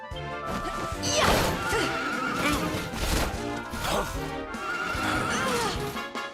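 A horse neighs loudly several times over clattering hooves and crashing noise, with voices talking throughout, in the video game Dragon Quest XI.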